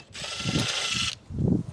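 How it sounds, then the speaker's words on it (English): A ratchet with a 12mm socket loosens a battery hold-down bolt on a BT-50 / Isuzu D-Max, a close, steady burst of fine clicking lasting about a second, followed by a short, softer spell of clicks. "12mm socket"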